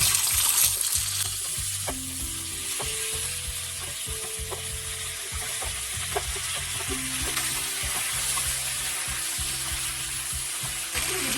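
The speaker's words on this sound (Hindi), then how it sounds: "फ्लेम पे 3 से 4 मिनट सब्जी फ्राई करेंगे।" Mixed vegetables for Bengali shukto fry steadily in oil with panch phoron in a pan, a continuous close sizzle with occasional stirring scrapes and faint background tones.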